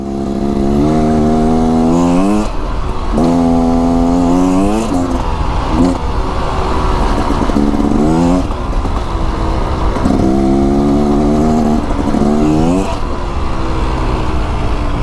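A Beta Xtrainer dirt bike engine revs hard while riding, loud and close, rising and falling in repeated throttle bursts with gear shifts over a continuous rumble.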